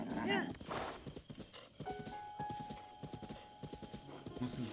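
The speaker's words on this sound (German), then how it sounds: "Ich muss jetzt dieses Pferd irgendwo abladen." Horse hooves clip-clop in a steady walking rhythm in the video game Zelda: Breath of the Wild, with a sustained game tone running beneath them.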